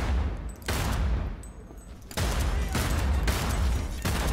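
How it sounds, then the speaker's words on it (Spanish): Bursts of rapid gunfire at the lobby of Arasaka tower in Cyberpunk, with loud broadband volleys in several separated clusters and brief gaps between them, no talking. "Voy a dispararles."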